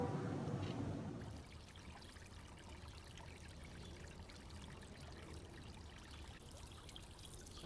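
Water trickling and pouring in a peaceful backyard, a soft continuous splashing stream, faint and steady, with a louder burst of sound at the start.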